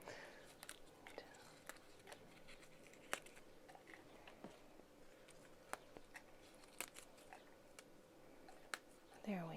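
Quiet scissor snips through fresh basil leaves, a handful of soft, sharp clicks spaced a few seconds apart over a low room hush.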